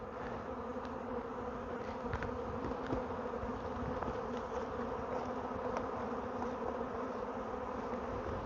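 Honey bees buzzing around frames at an open hive, a continuous low droning hum from many insects with a few closer passes flickering through, steady and fairly quiet with no talking.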